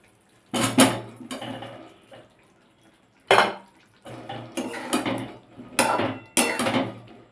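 Boiled and fried arum roots are tipped into a cooking pot in several clattering bursts of metal scraping and knocking, loud and close, with pauses between them and no speech.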